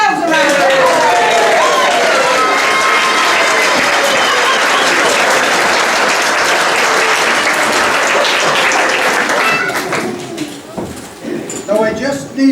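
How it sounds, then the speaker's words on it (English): Sustained loud applause from a theatre audience at the close of a Sleeping Beauty pantomime, steady dense clapping with some cheering that thins and tapers off near the end. "give yourselves a round of applause"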